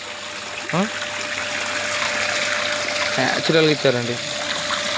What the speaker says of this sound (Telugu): ఇక్కడ టోటల్గా చూడండి వాటరు ఎలా వస్తున్నాయి